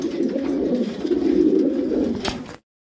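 Racing pigeons kept for winter races coo in a low, steady, rolling murmur at close range, with a brief flutter near the end before it cuts off.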